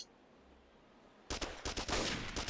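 Gunfire in the WWII shooter Rajd na Berlin: Cień Stalingradu, a burst of loud, rapid overlapping shots that starts abruptly after a quiet stretch and continues densely to the end.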